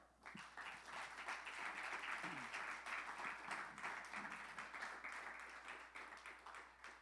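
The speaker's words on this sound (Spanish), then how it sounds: "Le da un aplauso al Señor" A church congregation breaks into sustained applause, a dense wash of many hands clapping at once that holds steady for several seconds, fairly distant and soft.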